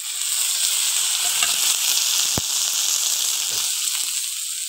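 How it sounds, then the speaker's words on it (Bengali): Prawns coated with turmeric and salt fry in a pan over already-fried onions, a steady close sizzle with a few faint clicks and one sharp knock of a utensil midway, no voices. "চিংড়ি মাছটা ভাজা হয়ে গেছে"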